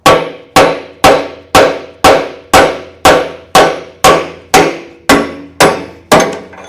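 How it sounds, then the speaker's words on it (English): Twelve heavy, evenly spaced hammer blows ring out on the smokebox of a steam boiler, each a sharp metallic strike with a decaying clang, loud and close with no talk. "Let's get the hammer in and hammer on."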